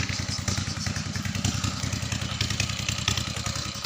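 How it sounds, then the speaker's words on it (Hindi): Tubewell pump engine beside a mosque near an old railway station, chugging steadily with a continuous low rhythmic thump and clatter, fairly close and unbroken throughout. "ट्यूबवेल का शोर मुसलसल सुनाई दे रहा है आपको"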